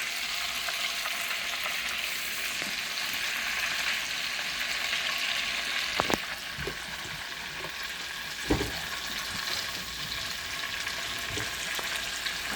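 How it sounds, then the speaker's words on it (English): Steady sizzling of chicken frying in a pan, with occasional clinks of a utensil against the pan. "we're kind of frying that just a little bit more"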